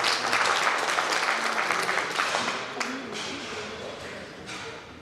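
Audience applause at a Jabalpur dialogue session on a hundred years of the Sangh, a broad crackling wash that fades steadily over five seconds while a voice talks over it.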